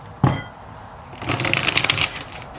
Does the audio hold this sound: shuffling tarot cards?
yes